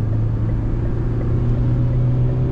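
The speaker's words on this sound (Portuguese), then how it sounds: "agora o barulho do motor entra bastante aqui na cabine" Steady low engine drone of a Fiat Titano Ranch 4x4 pickup in sport mode under full throttle, heard from inside the cabin as a constant rumble with no talking.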